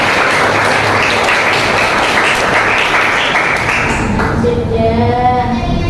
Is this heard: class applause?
yes